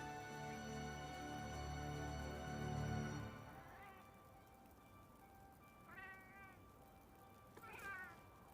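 A cat meows in the video game Monster Hunter: Iceborne, three short nearby meows in a row after a stretch of steady game music.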